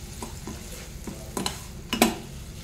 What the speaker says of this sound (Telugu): నెయ్యిలో ఈ పిండి మంచిగా కలిపేసేసుకోవాలి